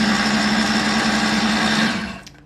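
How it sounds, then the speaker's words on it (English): A cordless food processor runs with a steady, close motor whine for about two seconds, then spins down and stops. "this is a cordless food processor"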